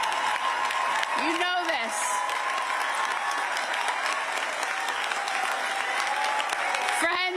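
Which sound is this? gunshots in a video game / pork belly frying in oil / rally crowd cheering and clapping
rally crowd cheering and clapping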